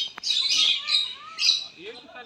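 A hornbill at Lucknow Zoo gives harsh, high squawking calls in several quick bursts, fairly close, with a faint voice briefly audible underneath.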